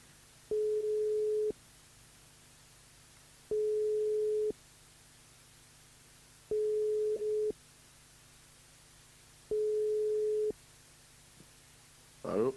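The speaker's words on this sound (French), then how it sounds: "On appelle Gabriel sur le jeu séjour par SMS au 80-90." Steady telephone line tone heard while a radio show calls a contest winner, four evenly spaced one-second beeps separated by pauses of about two seconds, clear and alone, with a brief voice at the very end.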